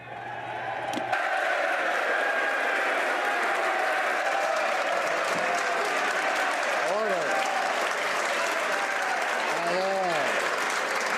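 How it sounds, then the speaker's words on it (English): Members of Canada's federal Parliament applaud in the House of Commons during the 2018 budget debate: a dense, continuous roar of clapping from a large crowd holds steady for about ten seconds, with a few voices calling out over it. "I would encourage all members to save their applause for later"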